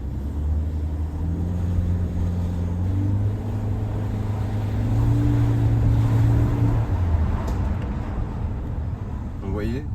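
A Toyota C-HR Collection with a 1.8-litre 122 hp engine is revved, giving a steady close low drone whose pitch climbs in the middle and then settles, with faint talk over it.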